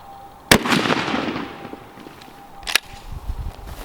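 A shotgun fires Federal Premium Personal Defense copper-plated double-aught buckshot, nine pellets per shell, into a gel target: one sharp, loud blast with a ringing tail, then a second fainter report a couple of seconds later.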